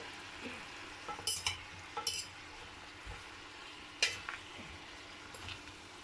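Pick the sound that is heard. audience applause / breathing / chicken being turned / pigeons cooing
chicken being turned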